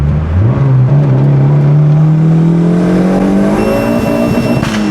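Turbocharged car with a chambered muffler exhaust accelerating hard, its loud, close engine note climbing steadily in pitch through the gears with a faint whistle on top.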